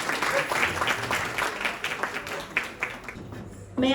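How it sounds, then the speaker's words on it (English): A hall audience applauds a judge at an awards function, dense steady clapping with some voices mixed in, fading at the end. "Big round of applause for Susan,"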